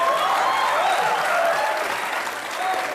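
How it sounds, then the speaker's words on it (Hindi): Studio audience applause at a Kapil Sharma comedy show taping, a dense, steady wash of clapping that fills the whole stretch at close range, with faint voices blended into the crowd. "जोरदार तालियां हो जाए एक बार।"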